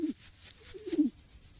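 A pigeon coos softly in two low, throaty phrases close by, a short murmur followed by a longer rolling coo, with no talking.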